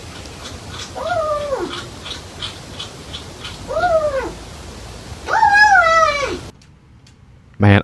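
A cat meows three times in drawn-out, rising-and-falling calls spaced a couple of seconds apart, the last one longest and loudest, over a low background hum before a sudden quiet and a brief thump.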